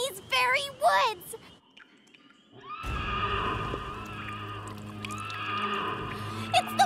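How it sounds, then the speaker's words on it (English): A cartoon headless horse gives a shrill, quavering whinny up front, followed by a quiet pause and then a low, steady ambient rumble with faint clatter in a spooky woodland setting. "It's the wicked Winnie of the headless horse!"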